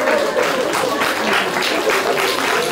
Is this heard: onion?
no